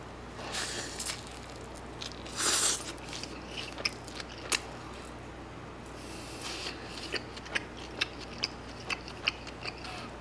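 Steak toast being bitten and chewed up close, with a loud crunchy bite early on and quieter squishy chewing and small clicks after it, no talking.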